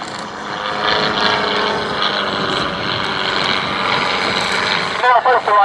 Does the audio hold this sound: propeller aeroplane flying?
yes